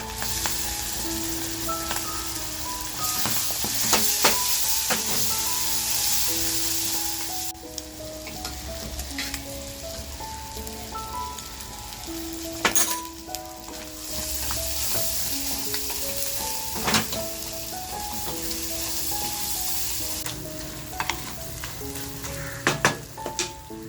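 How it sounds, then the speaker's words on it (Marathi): Goat offal (vajri) frying in a spicy masala in a pan, giving a steady close sizzle with repeated scraping stirs and occasional utensil knocks throughout, with no talking. "आता बघा थोडीशी वजरी टाकून घेते"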